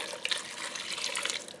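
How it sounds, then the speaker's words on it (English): Half a cup of water poured into a Ninja Speedi cooker, a short splashing, trickling pour heard close and alone for under two seconds. "I'm going to put a half a cup of water in there"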